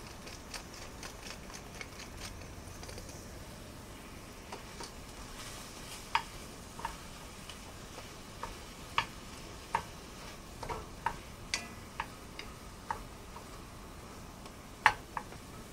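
Ground meat seasoned with salt and cracked black pepper fries in a pan for loose meat sandwiches, a faint steady sizzle broken by scattered sharp ticks and scrapes of stirring.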